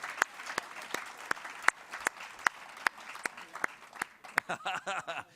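Scattered, moderately faint handclaps from an audience greeting the Brisbane delegation as it stands, a loose run of separate claps that fades into light laughter and murmuring talk at the end.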